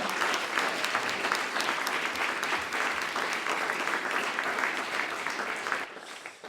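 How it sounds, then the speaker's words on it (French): An audience applauds five round-table panelists at a discussion on rivers and climate, a full, steady clapping that stops abruptly near the end. "Je pense qu'on peut vous applaudir si vous voulez venir tous les 5."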